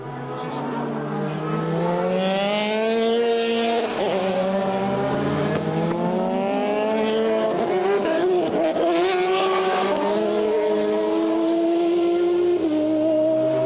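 Formula BOSS race cars in qualifying at Mondello Park, a steady, loud engine howl rising and falling through gear changes as cars pass at high revs, with overlapping engines at times.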